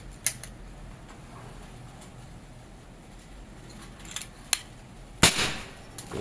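A single sharp, loud crack of a Predator Monel Biggame PCP air rifle shot at 3500 PSI with a 30 cm barrel rings out after a few faint clicks and ticks, followed by a brief fading hiss.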